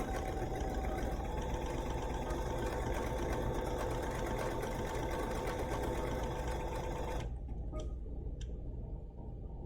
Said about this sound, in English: I'm going to sew. So you'll see it travels but doesn't make any stitching.